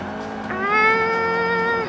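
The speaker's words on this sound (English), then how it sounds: "Sounds like a family car!" Car engine in the Forza 5 racing game, a family-car type, revving up from idle into a steady tonal drone that holds close and loud for over a second before easing off, with no talk over it.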